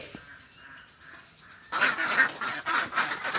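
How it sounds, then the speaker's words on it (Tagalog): Farm ducks break into loud, overlapping honking quacks after a quieter opening, the calls clustered and close by, with no voices. "Ito yung mga itik."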